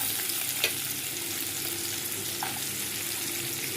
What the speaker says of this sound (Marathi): आता त्याच्यामध्ये मी कांदा टाकून घेतलेला आहे